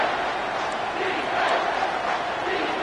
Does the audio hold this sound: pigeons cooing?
no